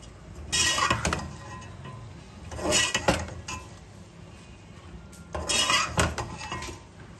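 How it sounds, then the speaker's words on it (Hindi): Carrots and capsicum go into a pan of cooked chicken: three bursts of metal spoon and pan clatter with clinks and scrapes, close and loud, separated by quieter sizzling gaps. "अब मैं इसमें ये डाल रही हूँ गाजरें, शिमला मिर्च"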